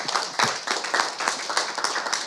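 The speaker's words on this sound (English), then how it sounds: "I think we should give Greg and Karen a round of applause." An audience at a county water education talk claps in a sustained round of applause, dense and close, with no voices over it.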